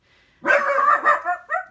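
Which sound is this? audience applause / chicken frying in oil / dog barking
dog barking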